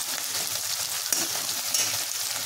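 Sliced onions sizzle in hot oil in a pan for a country chicken curry, a constant bright frying hiss with a couple of soft scrapes as the onions are stirred, close and steady with no talking.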